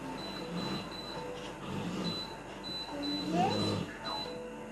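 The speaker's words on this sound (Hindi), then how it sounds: "एसी ऑन हो गया, चल रहा है," A split wall-mounted air conditioner fitted with an air deflector runs with its swing louvers moving, giving a steady mechanical hum and an intermittent high whine, with a voice occasionally heard over it.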